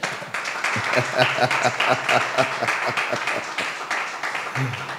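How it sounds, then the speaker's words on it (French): An audience at a Christian gospel event applauding and cheering for the Lord, a dense wash of clapping and voices that carries on steadily throughout, loud and near. "Est-ce que quelqu'un peut acclamer pour le Seigneur?"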